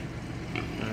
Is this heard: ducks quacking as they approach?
no